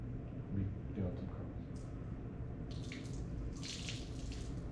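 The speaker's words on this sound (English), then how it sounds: "still a little bit of water coming out" Water drains from a potted plant in a steady low splashing trickle, brightening into hissy spatters toward the end, while someone talks over it.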